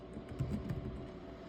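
Computer keyboard typing while naming a desktop scan folder, quiet scattered keystrokes close by over a steady room hum, with no talking.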